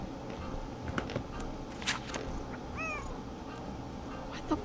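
A cat meows once, short and fairly soft, in the mystery game Nancy Drew: Secret of the Old Clock, set among scattered clicks and light footstep-like taps in a quiet room.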